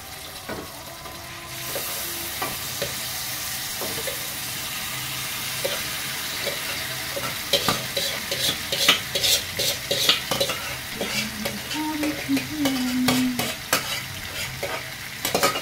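Chicken sizzles as it fries in a pan while a spoon stirs it, giving steady scraping strokes that grow busier and louder midway, with a brief tonal squeak near the end and no talk.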